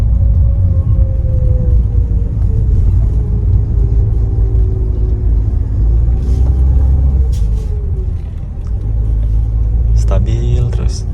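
A Mitsubishi car's engine hums low and steady at light throttle, creeping in low gear along a rough, challenging track, with bumps and rattles over the rumble and a voice talking throughout.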